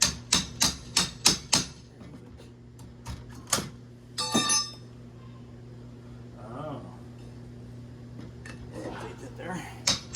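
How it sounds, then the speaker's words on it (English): Six quick metallic hammer strikes on a pry bar while removing a doorframe, in a rapid burst, followed by a few scattered knocks and a clattering scrape, then quiet with faint mutters. "I should be able to just use my Johnson bar and a hammer"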